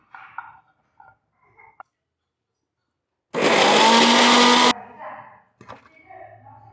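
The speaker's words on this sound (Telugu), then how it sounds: "మెత్తబడాక చల్లారాక మిక్సీ జార్లో వేసుకోండి" A mixer grinder jar whirs loudly for just over a second, blending cooked ingredients into a smooth paste for chicken curry, with speech before and after the burst.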